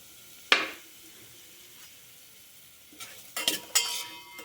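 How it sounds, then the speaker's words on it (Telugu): Semolina (rava) roasts in ghee in a pan, a low sizzle broken by a sharp scrape of the spoon early on, then a quick cluster of stirring scrapes and clinks toward the end. "రవ్వ వేసాక అటు ఇటు కలుపుతూ ఉండాలి."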